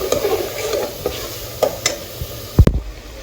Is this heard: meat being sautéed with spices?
yes